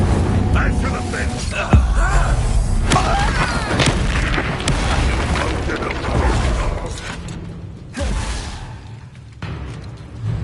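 A Confringo explosion spell in the Hogwarts Legacy video game makes a loud boom within a long stretch of busy combat, with mechanical clanks and a voice talking over it.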